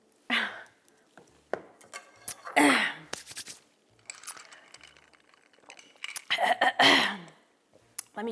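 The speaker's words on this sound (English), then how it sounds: "Let me clear my throat for this one." A person clears their throat in a few short, raspy bursts between quiet pauses, close to the mic, during a spicy Korean fire noodle mukbang, with faint clinks of dishes or cutlery nearby.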